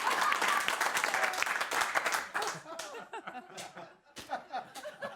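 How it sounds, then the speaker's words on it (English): A studio audience at a TV comedy talk show claps loudly and laughs, a dense burst of applause mixed with chuckles that thins into scattered claps and a voice talking over it. "Oh, clap for that!"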